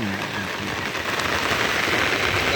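Heavy rain pours steadily on surfaces in Cumilla as flooding threatens and water rises level with the road, a loud, dense, unbroken roar with a voice speaking underneath.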